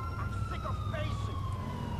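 An ambulance siren wails steadily in Grand Theft Auto IV with the LCPDFR police mod, loud and continuous over rumbling game engine noise.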